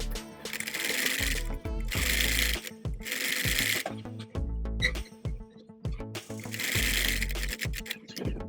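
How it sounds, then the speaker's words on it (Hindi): Sewing machine running in bursts as it stitches close along the folded edge of fabric for a baby boy's shorts, with rapid rhythmic whirring stopping and starting several times, loud and near. "यहाँ पे बिल्कुल किनारे किनारे पे सिलाई लगा लेंगे"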